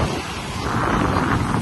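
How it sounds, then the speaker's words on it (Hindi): Water waves breaking at a seashore, a broad rushing wash that swells steadily and stays loud, mixed with wind buffeting the microphone. "पानी की लहरें"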